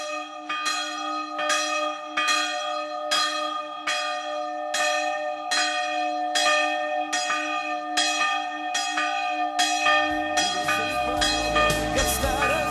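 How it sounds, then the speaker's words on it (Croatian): Old church bells peal in a steady, regular rhythm, loud and ringing alone with rich overlapping tones, ending in a denser jumble of strikes and a low rumble near the end. "Kad stara zvona zvone"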